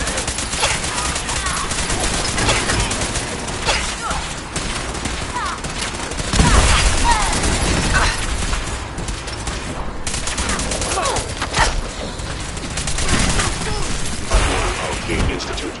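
Steady gunfire from the Fallout 4 game rattles on in continuous volleys with occasional heavier impacts. It stays loud and close, with voices faintly mixed in.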